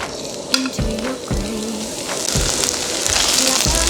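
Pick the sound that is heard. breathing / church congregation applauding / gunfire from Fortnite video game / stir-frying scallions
stir-frying scallions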